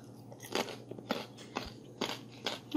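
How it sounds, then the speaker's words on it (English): Someone bites into and munches a fresh crunchy carrot, making five loud, crisp crunches at a steady rhythm, close up and with no talking. "if you want to really munch on your fresh crunchy veggies like this carrot,"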